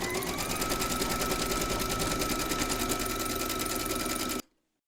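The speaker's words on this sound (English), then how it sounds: "Pop your hoop into your machine and stitch round number 1, and that's going to give you your placement outline for your felt." An embroidery machine stitching a felt placement outline in a hooped project, a loud, even mechanical whir with rapid rhythmic needle beats that runs steadily and then stops abruptly near the end.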